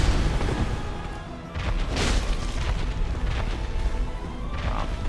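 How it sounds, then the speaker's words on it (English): A loud, rumbling explosion from the Demon Firesage boss fight in the Dark Souls video game, a deep sustained boom that swells midway and churns on with crackling debris, with no voices. "Explosion."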